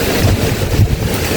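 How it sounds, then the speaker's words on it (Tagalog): Strong typhoon wind roars and buffets the microphone in a steady, loud, dense rush with no voices. "Ito na po ang bagyo. Lakas po ng hangin."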